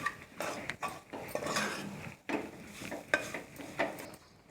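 Kajjikaya filling of fresh coconut and poppy seeds frying in a pan, giving a soft steady sizzle with scraping stirs and a few spoon clinks against the metal; there is no talking.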